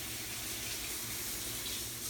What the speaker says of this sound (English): so I'm gonna rinse it out quick